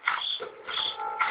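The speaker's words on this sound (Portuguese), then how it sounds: "O grilo maldito." A cricket chirping in the horror video game Slender, a few buzzing trills repeating close and clear over a quiet background.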